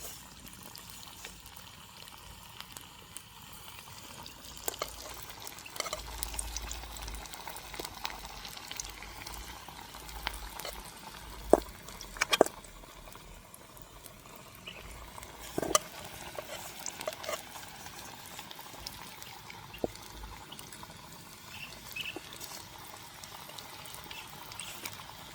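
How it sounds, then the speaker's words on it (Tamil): Spicy bonda deep-frying in hot oil in a village kitchen, a soft steady bubbling with occasional stirring and clinks from a utensil, fairly quiet throughout. "கரகலண்டு வந்துட்டு நாங்கள் இப்படியே மிச்சத்தையும் பொரிச்செடுப்போம்."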